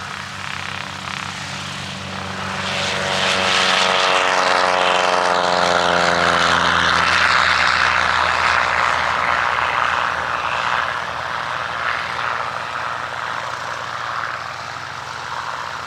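A small propeller airplane takes off at a fly-in and car show in Sauk Centre, its engine droning up from a distance to a loud pass over light wind, with a falling pitch as it goes by, then a steady fading roar.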